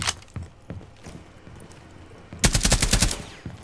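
Rainbow Six Siege gunfire: a few scattered single shots and footsteps, then a loud rapid automatic burst of about ten closely spaced rounds, followed by a lone later shot.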